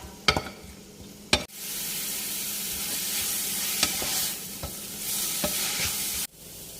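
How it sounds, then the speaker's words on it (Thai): Crab stir-fried in a pan for a Thai Isan bamboo-shoot curry, sizzling steadily with a few sharp clanks of a utensil against the pan near the start and scattered scrapes and taps throughout. "เนี่ยนะคะปูก็คั่วมาได้สักพักหนึ่งแล้วนะประมาณ 5 นาทีค่ะ"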